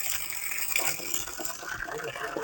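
Running water poured out during a spectacled cobra rescue to flush snakes from a hiding spot, a continuous rushing gush, close and steady throughout.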